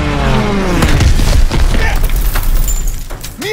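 Stuka dive bombers attack in Call of Duty WW2, with a falling whine at the start, then loud, heavy booming explosions that rumble continuously in the foreground with crashing debris for several seconds.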